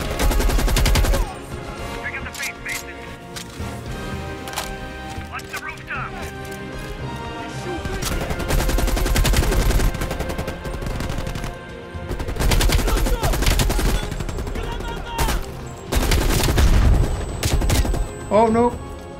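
Gunfire in Black Ops Cold War, loud bursts of automatic fire and single shots in clusters across the stretch, mixed with game effects and a voice talking between volleys.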